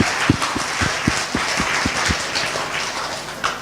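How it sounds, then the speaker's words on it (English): A conference audience at an ASSAP event gives itself a round of applause: dense, steady clapping fills the room, with a few low thumps early on. "give yourselves a round of applause"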